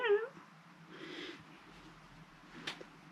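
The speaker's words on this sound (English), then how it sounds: "this is my beautiful kitty Benji" A house cat gives two short meows, the first sharp and close, the second softer, followed by a quiet indoor room and a brief light rustle near the end.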